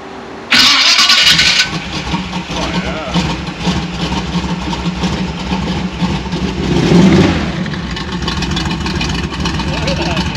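Chevrolet Biscayne hot rod engine cranking and catching, then idling roughly with a loud rev partway through, close and steady, with people talking over it.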